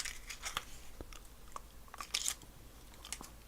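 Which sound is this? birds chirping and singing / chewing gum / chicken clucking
chewing gum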